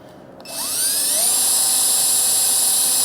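Small Harbor Freight drill bit boring into a 1978 Trans Am: a high, steady whine that spins up after a brief click and holds loud and close for a few seconds.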